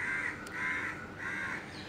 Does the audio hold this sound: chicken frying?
no